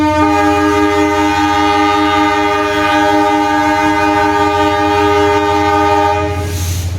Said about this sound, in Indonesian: Kereta api Bengawan berangkat.